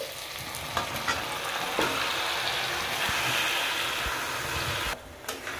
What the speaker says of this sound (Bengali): মাংস দেওয়া হয়ে গেছে, এবার ভালো করে কষে নিব।